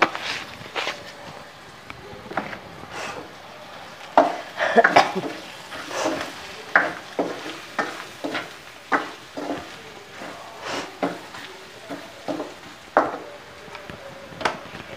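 A spoon scrapes and stirs ground coriander into freshly crushed ginger and garlic frying in a pan, with repeated metallic clinks against the pot over a soft sizzle.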